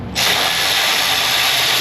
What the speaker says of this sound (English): And I'm even tightening the bolts this time.